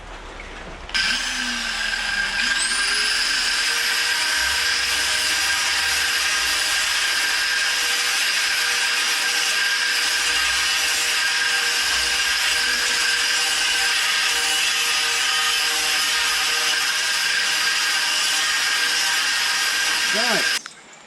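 A power tool trims the sharp metal edges of a handmade fire barrel, giving a loud, continuous high whine that holds steady for about twenty seconds before cutting off, with no speech over it.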